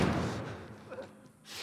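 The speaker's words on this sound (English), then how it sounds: "Barricade the doors." Doors being barricaded in The Last of Us Part 1 remake, giving a heavy slam and low thud up close at the start, then a quieter knock and shuffle.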